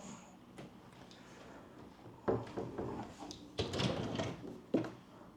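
A hotel room drawer holding a Bible slides open, with a few soft wooden knocks and scrapes in a quiet room, the thuds coming close and moderately loud.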